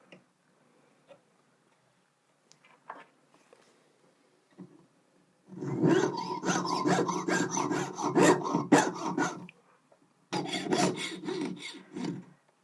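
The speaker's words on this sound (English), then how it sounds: "So let's just get this piece cut off." Hinge tubing for a domed locket is cut with a jeweller's saw: a sustained rasping stroke of about four seconds, a brief pause, then a shorter burst, close and moderately loud after a few faint taps.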